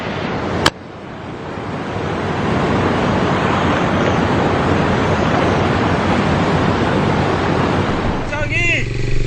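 A rising floodwater river rushes during tropical storm Vinta in Cagayan de Oro, Philippines, a loud, continuous broadband roar heard close by, with a sharp knock near the start and a brief voice at the end.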